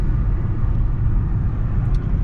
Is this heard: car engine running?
yes